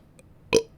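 A single short, voiced burp, close and fairly loud, standing alone against a quiet indoor background with no talking.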